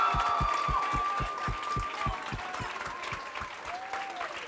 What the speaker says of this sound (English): if we could give a huge round of applause to the person that organized this and planned it all